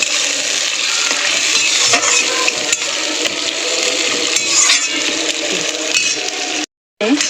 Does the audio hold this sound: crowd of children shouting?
no